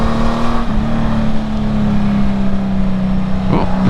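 A Honda Gold Wing GL1800 touring motorcycle with reflashed engine tuning pulls hard under acceleration on the road, a steady loud engine drone holding pitch with wind rush, then a brief shift near the end.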